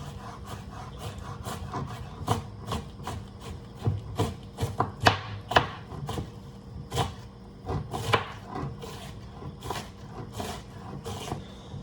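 A knife chops onions finely on a cutting board, a steady run of crisp close taps at an even brisk rhythm with a few louder strikes.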